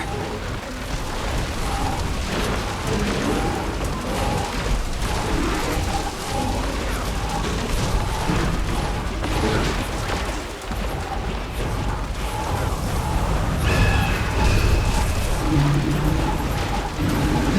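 An extractor machine in the Guild Wars 2 game cranks into motion with dense, continuous mechanical grinding and ratcheting, loud and sustained under rumbling effects for the whole stretch.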